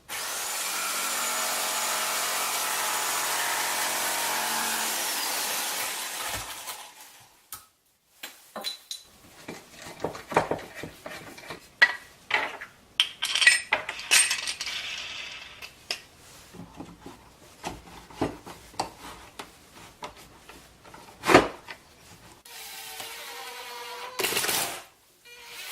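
Wood being cut with hand tools to make a slot for a table saw circle jig. A long steady grinding run is followed by many irregular scraping, rubbing and knocking sounds, close and fairly loud.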